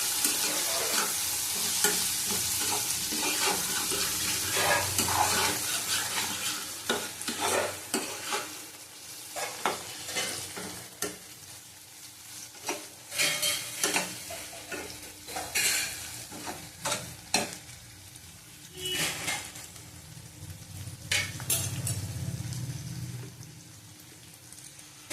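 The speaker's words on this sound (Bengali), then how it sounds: "দেবো কাশ্মীরি লঙ্কার গুঁড়ো 1 চামচ, আবার ভালো করে কষিয়ে নেবো।" Prawns being sautéed in a masala with Kashmiri chili powder, a soft steady sizzle with repeated scraping and clinking of a spatula against the pan, the stirring coming in uneven bursts with no one speaking.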